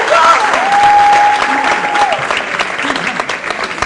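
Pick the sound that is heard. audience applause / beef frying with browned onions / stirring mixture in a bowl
audience applause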